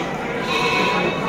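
Garut sheep bleat at an outdoor livestock market, a loud, sustained wavering call set against busy crowd noise.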